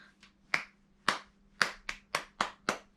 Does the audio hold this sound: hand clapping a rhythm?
yes